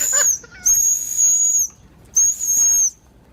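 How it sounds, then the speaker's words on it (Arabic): A shrill, high whistle is blown in several bursts, some short and some longer, with breathy hiss between them, close and loud. "في صوت صفارة"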